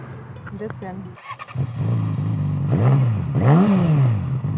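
A loud Speed Pro Cobra motorcycle exhaust revs up close with rising and falling engine sweeps, starting after a brief spoken remark and continuing as voices talk over the roar.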